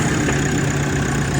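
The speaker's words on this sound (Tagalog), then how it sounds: "Narinig natin na tumuyok-tuyok na yung engine." A Nissan Navara engine with a no-crank, low-power fault running at a rough idle, a steady mid-pitched hum with faint irregular knocking throughout, heard alone.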